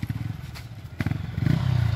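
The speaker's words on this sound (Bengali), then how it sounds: "ঠেলে ঠেলে বাইক স্টার্ট দিচ্ছি আমরা, ঠেলে ঠেলে।" Motorcycle on a hill-road tour being push-started until the engine catches, rapid throbbing exhaust pulses that sputter at first, then settle into a quicker, fuller idle rhythm close by.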